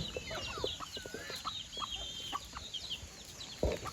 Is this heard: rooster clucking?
yes